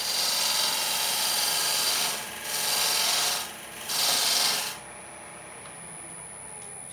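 A woodturning lathe spins a wooden Christmas ornament as a tool rubs the cut, giving a steady broadband rasping hiss in three swelling passes, then dropping to a quieter hum from the running lathe.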